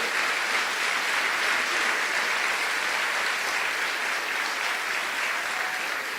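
Loud, steady applause from a church congregation fills the space without a break, a dense wash of many hands clapping.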